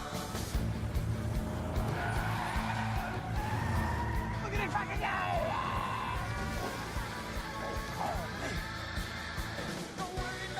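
A Ford Mustang 5.0 stuck in a movie scene: an engine drones and tires squeal and skid under loud shouting and a busy soundtrack, with the car noise partly buried in the mix.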